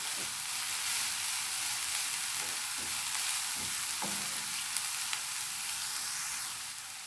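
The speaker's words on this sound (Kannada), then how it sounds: "ಇವಾಗ ಇದನ್ನು ಹೈ ಫ್ಲೇಮಲ್ಲಿ 2 ನಿಮಿಷ ಚೆನ್ನಾಗಿ ಫ್ರೈ ಮಾಡುವ." Onions for samosa filling frying on high flame, giving a dense, steady hiss-like sizzle with a few faint stirring knocks underneath. The sizzle eases slightly at the very end.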